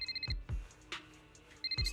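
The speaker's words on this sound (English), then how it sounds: "As the phone rings again," A telephone ringing in an animated game scene, with a repeating electronic ringtone burst at the start and again near the end, separated by low thumps and a brief whoosh in between.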